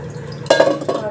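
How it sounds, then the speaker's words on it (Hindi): Dahi vada batter being beaten by hand in a bowl after a little water is added, giving a few quick clinking, scraping strokes against the vessel, close and moderately loud. "अब इसको मैं थोड़ा थोड़ा पानी डाल के फेंक लूँगी।"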